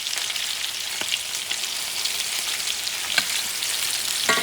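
Garlic caramelizing in a hot pan, a steady bright sizzle and crackle with occasional stirring clicks, close and fairly loud, with no talking.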